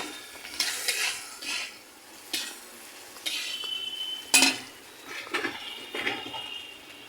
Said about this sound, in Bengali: শুটকিটা ভাজা হয়ে যাচ্ছে, একটু লবণ ছিটিয়ে দেব